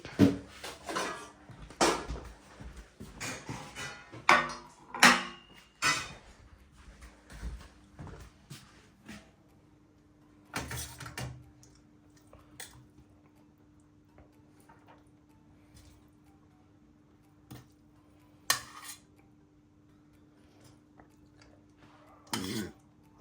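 Plates and dishes handled at a home biryani meal, with clustered close clinks and clatters early, then sparser knocks and scrapes separated by quiet gaps, plus a faint steady hum behind.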